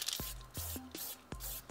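Short bursts of white spray paint from an aerosol can on an art piece, three or four quick hissing puffs separated by brief pauses, close and fairly soft.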